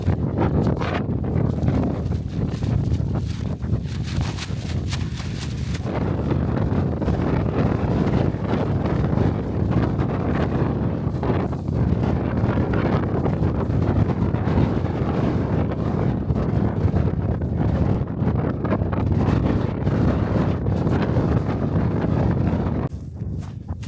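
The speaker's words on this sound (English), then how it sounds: "Thankfully I'm out of that wind chill" Strong winter wind on a Scottish Munro in subzero conditions, a loud continuous roar buffeting the microphone with gusty surges throughout, alone without talk.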